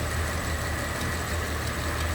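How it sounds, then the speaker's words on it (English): A 1935 Ford flathead V8 idles steadily with its hood open, a low, even rumble holding constant from start to finish with no voices. "There it is, flathead V8."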